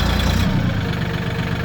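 A tractor engine labors while stuck in deep mud, a heavy low rumble with strong throbbing at first that eases into a steadier idle-like drone, close and loud.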